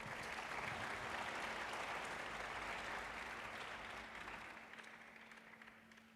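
An audience applauds after a live sitar recital with tabla accompaniment at Muddenahalli, a dense, steady wash of clapping that gradually thins and fades toward the end.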